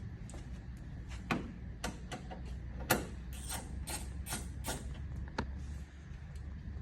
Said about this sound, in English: So take your 13mm socket, again, magnetized with a locking extension works best. Go ahead and put them in and remove those bolts.